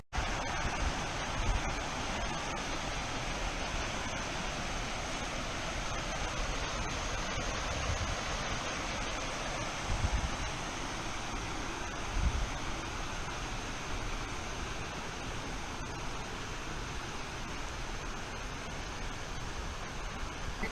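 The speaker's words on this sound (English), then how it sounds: "This is the creek that comes off the back of that pond slash lake." Creek water flowing out of the back of a pond near Shaw Lake, a steady, even rushing wash that stays constant and moderately loud throughout, with no voices.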